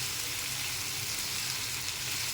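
Pumpkin pieces fry in a pan for a Bengali pumpkin dish, a steady soft hiss of sizzling oil, close and even, with no voices.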